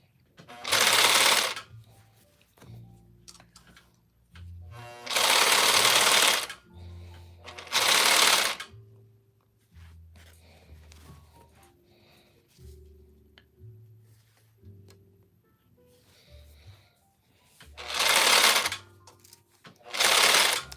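A sewing machine stitches a T-shirt quilt in several loud bursts of rapid whirring, separated by quieter pauses filled with low hum and faint handling of fabric.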